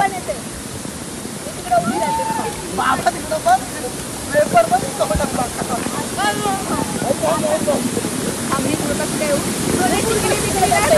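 A jungle waterfall pours in a steady broadband roar during a family outing after rain, with people talking and calling out over it throughout.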